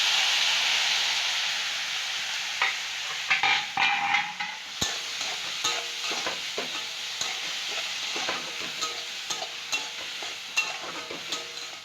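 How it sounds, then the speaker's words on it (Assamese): Fish paste sizzles in a hot pan as eggplant is added for a Assamese eggplant and fish dish, a steady loud frying hiss with scattered stirring clatters and pops, no talk. "পেটাখিনি ভাজা হৈ গৈছে, এতিয়া বেঙেনাটো দিব লাগিব।"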